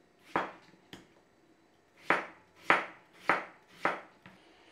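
A kitchen knife slicing potatoes into even pieces on a board, heard as six sharp separate chops, one early pair and then four in a quicker steady rhythm, close and clear against a quiet room.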